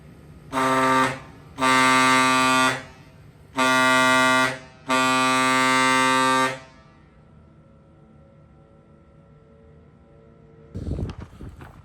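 A newly installed car horn sounds outside by a garage: four loud, sustained blasts with short gaps between them, the last one longest. A quieter stretch follows, then a brief rustling noise near the end.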